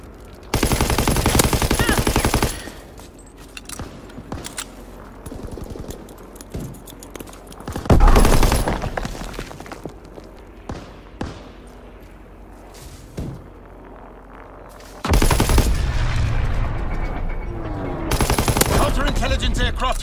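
Gunfire in the World War II shooter game Call of Duty WW2, with dense bursts of automatic fire in three loud stretches, separated by quieter passages of scattered shots and clatter, with game voices between them.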